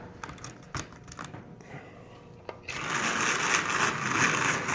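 A Lionel 246 toy train locomotive's electric motor starts up and runs with a steady, fairly loud whirring buzz after a few clicks and handling noises, continuing without talk.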